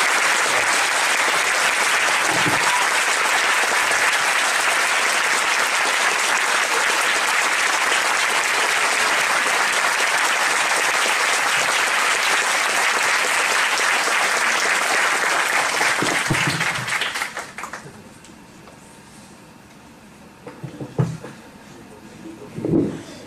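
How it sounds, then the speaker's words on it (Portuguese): Loud, sustained applause from a large audience fills most of the recording, then cuts off abruptly into a quieter room with a few faint knocks. "pedir agora, talvez a primeira salva de palmas para o professor Antônio Cândido"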